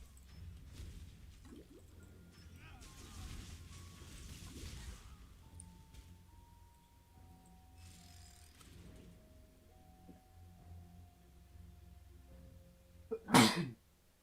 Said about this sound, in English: had to sneeze a little.